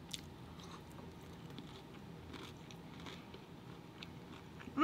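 A walnut from homemade walnut shrimp is chewed, giving quiet, close crunching and biting sounds against a soft, steady room background.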